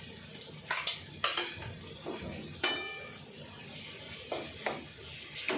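Green masala paste and vegetables sautéing in a pan for a spicy brinjal and potato curry, with a soft steady sizzle and a few sharp scraping stirs and clinks of a spoon against the pan.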